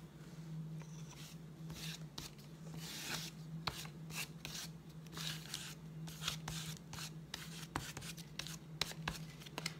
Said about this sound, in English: So let's go ahead and scrape some paint.